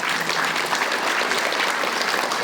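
Audience applause at a presentation fills the whole stretch with steady, dense clapping from a crowd in a hall, moderately loud and with no voices over it.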